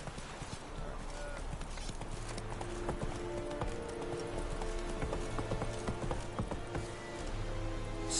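Horse galloping in The Witcher 3: Wild Hunt, steady rhythmic hoofbeats over a low game soundtrack hum, with faint ambient game sounds layered in.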